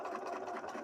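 A sewing machine stitching thick cosplay fabric, a continuous close mechanical whir with a rapid steady rhythm throughout the brief moment, no talking.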